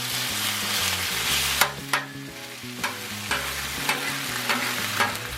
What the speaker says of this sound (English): Get our beef cooked up over here in that ginger and garlic.